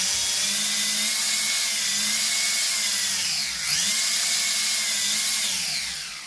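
High-pitched electric motor whine from an MST RMX 2.0 RWD RC drift car held at full throttle, loud and steady with a brief dip and recovery midway, then easing off at the end.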